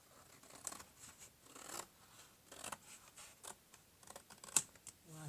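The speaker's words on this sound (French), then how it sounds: "Donc comme ce qui dépasse, ben, on coupe." Scissors cutting ribbon while making a ribbon display stand, faint quiet snips and rustles spread irregularly across a near-silent background.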